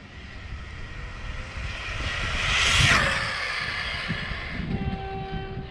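A 1/12-scale Arrma Grom rally RC car on a 3S battery speeds past with a rising then fading high-pitched electric whine, loudest at the midpoint, over outdoor background noise.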